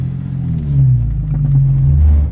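Nissan 350Z engine revving on its first drive after purchase with a salvage title, a loud, close, deep rumble that climbs as the car accelerates, with no one speaking.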